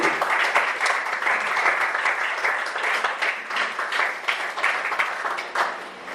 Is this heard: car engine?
no